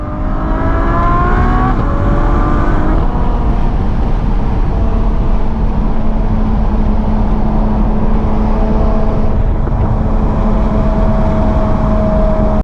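A 730-horsepower Ferrari F12 V12 drones steadily from inside the cabin while driving, a loud continuous engine tone that rises in pitch early on, settles into a sustained cruise, then climbs again near the end.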